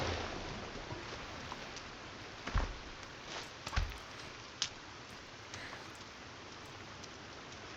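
Steady rainfall in the forest of the Sons of the Forest video game, a soft continuous patter with a few louder drip-like taps standing out, quiet and without voices.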